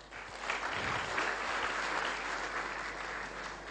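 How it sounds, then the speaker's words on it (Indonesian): An audience at an evening corporate awards event for Natural Nasantara claps steadily, dense applause filling the room evenly for several seconds with no voices on top. "Untuk itu tepuk tangan kepada Diamond Network Support System."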